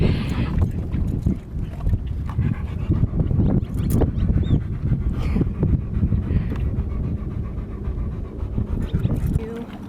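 Dogs at a dog park, heavy close panting in quick rhythmic bursts over wind noise, with a person talking briefly.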